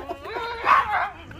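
A dog gives a short, yipping bark close by, with a person talking around it in a home kitchen setting.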